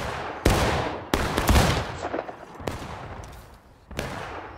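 Rifle volleys in the American Civil War video game War of Rights, several sharp, loud musket shots spaced irregularly over a sustained rumble of distant battlefield fire.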